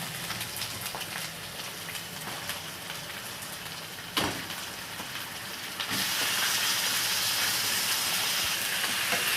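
Chicken pieces hit a hot pan of fried ginger paste and set off a steady, dense sizzle. A sharp burst comes partway through, and the hiss then swells louder and stays that way to the end.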